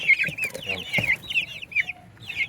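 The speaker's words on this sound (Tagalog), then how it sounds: "tuka-tuka na nila yung daon ng malunggay" Rhode Island Red chicks cheep and peep repeatedly while pecking at moringa leaves, close and fairly quiet, in a rapid, uneven series of chirps with soft background noise.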